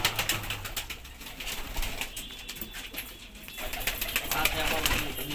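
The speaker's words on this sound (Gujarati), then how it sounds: "આ છે અમારું કબૂતર." A pet pigeon in Gujarat gives low, soft coos amid rustling and light clicks, close by, while a person talks over it.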